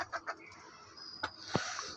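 Chickens on a poultry farm on a cold winter morning at 6 am give a few soft clucks and brief calls, close and fairly quiet, with a sharper squawk near the end.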